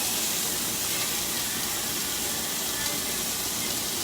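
A continuous rushing hiss of liquid being poured out, steady and fairly loud from start to finish.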